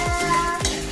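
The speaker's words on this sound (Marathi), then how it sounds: "मंद आचेवर ह्याला पण छान भाजून घेते." Star anise and small cardamom are dry-roasted over a low flame for Kolhapuri masala, with two quick, close scraping stirs across the pan over a faint, steady sizzle and no voices.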